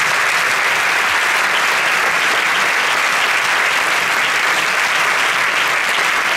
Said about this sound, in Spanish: Yo voy a pedir un fuerte aplauso para ustedes.